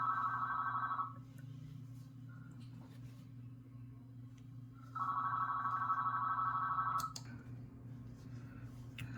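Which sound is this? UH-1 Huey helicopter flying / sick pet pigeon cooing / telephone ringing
telephone ringing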